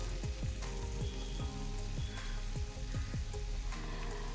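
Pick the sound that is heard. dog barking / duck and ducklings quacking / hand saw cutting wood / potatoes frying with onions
potatoes frying with onions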